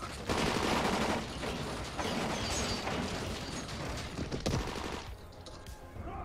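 Dense, continuous gunfire from a zombie shooter game, with rapid automatic bursts and scattered pops layered into a loud, busy mix that stays intense throughout before thinning slightly near the end.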